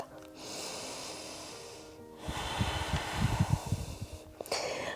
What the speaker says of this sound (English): And one more deep breath.